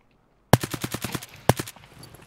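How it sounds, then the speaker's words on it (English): Full-auto bursts from an AKM rifle in the shooter game Escape from Tarkov: two rapid bursts of loud, close shots, the first a rattling string of about eight rounds, with some reverberation trailing afterward. "I started full autoing the guy with my scope zoomed in"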